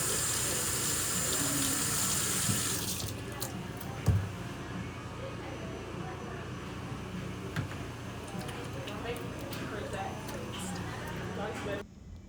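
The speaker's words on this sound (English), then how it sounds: "Wash and sanitize your hands." Tap water runs into a sink during hand washing at a cosmetology state board exam, a steady rushing stream that drops in level partway through, with faint clicks and handling noises, then cuts off near the end.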